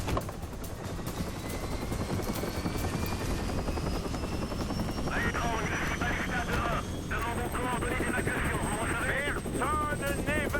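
A combat helicopter in the action game Prototype 2, its rotor thumping and engine droning steadily close by while voices speak over it.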